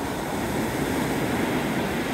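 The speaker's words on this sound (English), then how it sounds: "The wave came in and it came up all the way to my ankles." Ocean waves break steadily on a cold beach around a sandbar the day before Christmas, a continuous broad wash of surf and wind with no voices.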